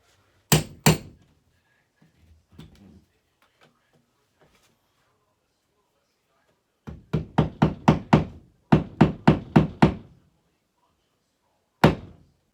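Wall anchors driven into a bedroom wall with a hammer: two sharp strikes, a pause with faint shuffling, then a rapid run of about a dozen loud close blows in two bursts and one final hit.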